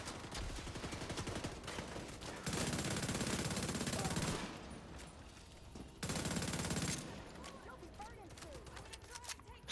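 Sturga rifle fire in The Division 2: loud, dense rapid-fire bursts, one around a couple of seconds long and a shorter second volley, with quieter game ambience between them.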